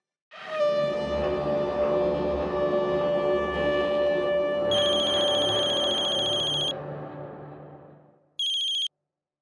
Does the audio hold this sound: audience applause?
no